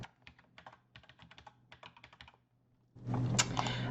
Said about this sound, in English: I just need to enter in the password here